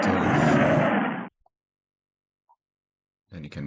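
A rocket lifts off in the Spaceflight Simulator video game with a loud, dense roar that cuts off abruptly, followed by near silence and then a voice talking.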